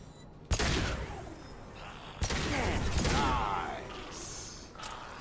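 Heavy gunfire from a weapon in Mass Effect 2 during a fight on Omega, two sharp loud blasts each followed by a long booming roar and rumbling decay, with lighter mechanical clicks in between.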